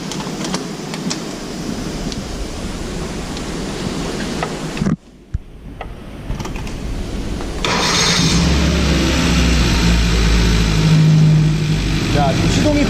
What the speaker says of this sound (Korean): 지금 시동이 걸려있는 상태고요